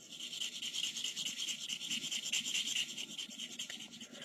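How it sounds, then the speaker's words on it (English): A stab knife blade for chip carving is sharpened on a medium sharpening stone, giving a steady, repeated scraping rasp in even strokes, close and moderately quiet, with no talking. "So I'll work on the medium stone a little bit more until I'm ready to move to my polishing stone."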